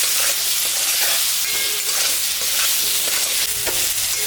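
Vegetable curry sizzles steadily in a hot pan, with the spoon scraping and stirring through it. The frying is loud and continuous for the whole stretch, and no voices are heard.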